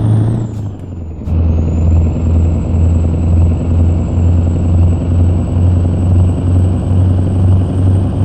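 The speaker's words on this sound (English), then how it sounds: "It has a more of a diesel sound to it than the other engine did" A diesel truck engine in American Truck Simulator drones steadily and loudly at low pitch, with a brief hissing burst near the start before the engine settles into an even rumble.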